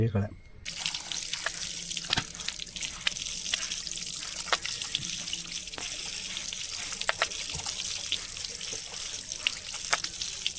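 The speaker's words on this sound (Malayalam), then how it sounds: "ഇനിയിപ്പോൾ നമുക്കൊന്ന് വെള്ളം ഉപയോഗിച്ചിട്ട് വീണ്ടും ഇതിനകത്ത് പറ്റി പിടിച്ച അഴുക്കൊക്കെ ഒന്ന്" Water from a tap rinses a motorbike chain after diesel cleaning, a steady close splashing and trickling with scattered drips throughout.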